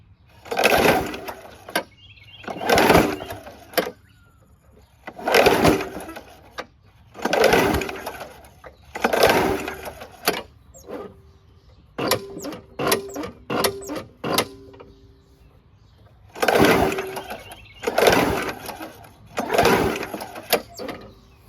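The recoil starter of a WeedEater 21-inch push mower is pulled repeatedly and stiffly, giving a series of close, scraping ratchet whirs about two seconds apart, with a burst of quick clicks and a short tone partway through.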